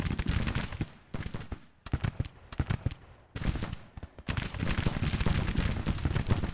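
Skirmishers' musket fire crackles through the Perryville Woods in the Civil War strategy game Grand Tactician, with dense, irregular volleys of sharp shots coming in clustered bursts and brief lulls, loud and close.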